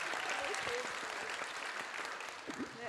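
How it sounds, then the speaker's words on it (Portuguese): Audience applause for Ana at a talk on Brazilian comic artists, a steady wash of clapping from a crowd, fading slightly toward the end with a few voices mixed in. "aplaudam a Ana primeiro"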